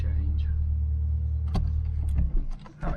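Classic Ford Cortina cars arrive and pull up on a road near Monmouth, their engines rumbling close by with a low steady drone and a few brief knocks and bumps toward the end.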